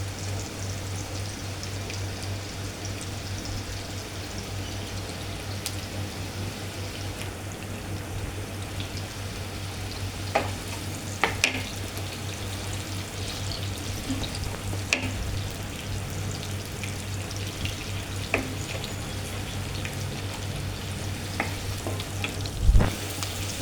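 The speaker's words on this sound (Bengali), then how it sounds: "তেল গরম হওয়ার পর এর মধ্যে তারপর পেঁয়াজ দেবো।" Onions fry in hot oil with a bit of chilli, a steady even sizzle held close throughout, with a few sharp clicks and a louder clatter near the end, no talk.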